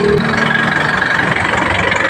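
A car engine idles after an oil change, giving a steady, close, even running hum throughout.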